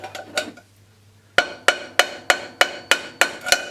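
A hammer beats an aluminium cake tin flat, giving a few ringing metallic strikes, then a pause, then eight sharp, evenly spaced blows close to the mic, each with a bright tinny ring.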